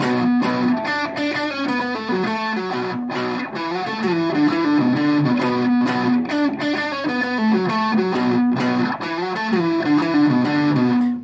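Heavily distorted electric guitar plays the riff at full tempo, driving repeated figures with brief chord breaks, loud, close and continuous without any talking.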